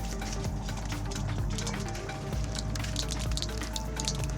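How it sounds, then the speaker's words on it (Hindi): Steady, dense rain pours down at a beach with a constant hiss and patter of drops, loud and unbroken throughout. "बारिश तेज हो गई है।"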